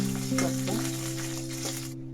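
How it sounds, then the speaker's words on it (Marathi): Makhana (fox nuts) fry in a pan on the stove as part of preparing a festive veg thali, giving a steady close sizzle with light stirring scrapes for about two seconds before cutting off. "फ्राय करू"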